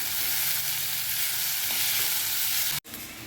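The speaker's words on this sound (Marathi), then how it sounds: "हिंग टाकलं. कांदा टाकला. ते चांगलं परतून घेऊ." Onion sizzles steadily in a hot pan with asafoetida, a dense, even frying hiss close by that cuts out briefly near the end, with no talk.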